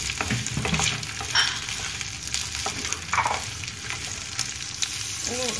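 Onion added to a pan of browning chicken seasoned with black pepper and salt, frying with a close, steady sizzle and a few stirring clatters, no voices.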